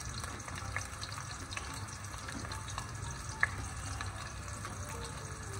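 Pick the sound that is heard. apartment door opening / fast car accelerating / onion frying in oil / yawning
onion frying in oil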